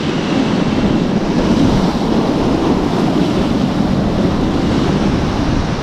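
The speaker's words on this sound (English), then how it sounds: "That swell is unreal. There is so much water moving at one moment." Powerful sea swell crashing on a UK shoreline, a continuous loud roar of surf with wind buffeting the microphone, steady and close without pauses.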